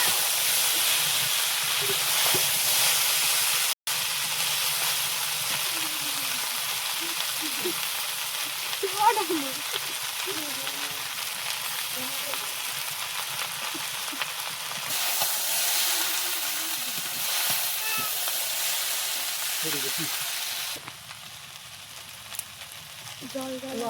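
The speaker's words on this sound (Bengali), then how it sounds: "নাড়িয়ে তলা দিয়ে নাড়িয়ে একটু নেড়ে চেড়ে দিই" Noodles fry in a pan in a village kitchen, a constant loud sizzle and hiss broken by scraping stirs along the bottom of the pan, with a voice talking faintly underneath.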